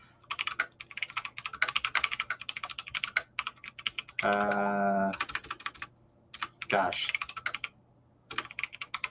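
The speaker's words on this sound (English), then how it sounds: "you can hear my mechanical keyboard" Rapid clacking of a mechanical keyboard fills the clip, with brief pauses where a person speaks a few words over it.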